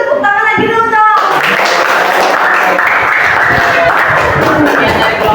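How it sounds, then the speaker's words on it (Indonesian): Students in a high school classroom at SMA Negeri 4 Kotabumi break into loud, dense clapping after a brief spoken moment, the applause continuing steadily to the end. "Beri tepuk tangan lagi dulu dong."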